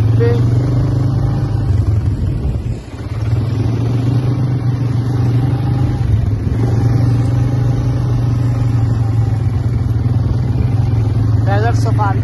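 A motorbike rides across the desert on a Dubai desert safari, its engine droning in a steady, loud rumble with a brief dip partway through, while people talk over it.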